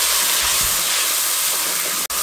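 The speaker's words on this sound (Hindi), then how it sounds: "1 मिनट हम मसालों के साथ भुनाई करेंगे।" Whole spices and ground masala frying in a pan for a potato and meat curry, a steady close broadband hiss and sizzle with no talk, cut by a brief dropout near the end.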